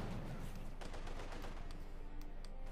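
Faint, distant gunfire crackles in Company of Heroes 2 as Panzers charge against a T-34 and anti-tank support, scattered shots popping through a low, steady battlefield rumble.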